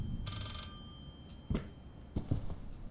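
A telephone rings in the horror video game Layers of Fear, a bright bell burst near the start over a low dark ambient rumble, followed by scattered footsteps or knocks.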